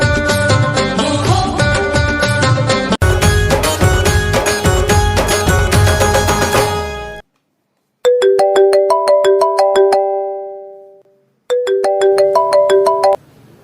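A phone ringtone plays as a loud melodic tune, then breaks into repeated chiming ring patterns separated by brief silences.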